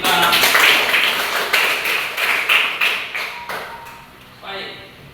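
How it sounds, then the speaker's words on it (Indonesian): Classroom applause for a student, a burst of many hands clapping together, loud at first and then tapering off over several seconds, with a brief lighter flurry near the end. "Tepuk tangan buat teman kita."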